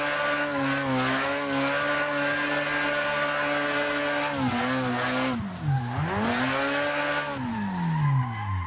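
Drifting car in Assetto Corsa with a loud, steady engine drone whose pitch swoops down and back up as the revs drop and climb, tire squeal layered over it, continuous and close throughout.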